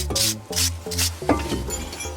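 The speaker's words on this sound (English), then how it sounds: "Start the wire brush." A wire brush scrubs a Range Rover Evoque brake caliper in steady back-and-forth strokes, each rasping pass close and fairly loud over a low tonal hum, with no talking.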